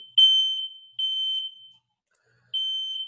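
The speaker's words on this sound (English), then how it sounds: "If you hear a fire alarm making a sound" A high, piercing electronic alarm beeps in three long tones with short gaps, loud and steady, with no other sound around it.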